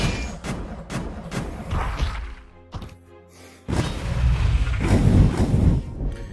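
Explosion slap attack in the video game Project Demigod, sending enemies flying: loud, close game thuds and crashing impacts with a whoosh, a brief quieter lull midway, then a dense, booming burst of impact noise.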